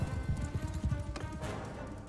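Horse hooves gallop in the Bannerlord video game, a fast, rhythmic clip-clop of thuds that is loud at first and eases slightly, with battle ambience underneath.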